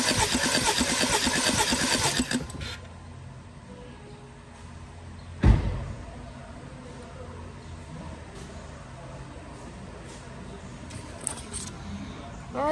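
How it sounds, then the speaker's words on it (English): A 2013 BMW X3 with the N20 engine cranks over during a compression test, a steady mechanical churning that runs for a couple of seconds and is loud and close, then gives way to quieter shop background. "Stick the compression gauge on here, and we're going to crank it over, see what it says."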